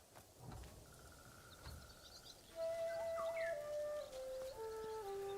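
Birdsong in the video game Ghost of Tsushima sounds as a few faint whistled notes and a descending call over a soft ambient background of insects and wind.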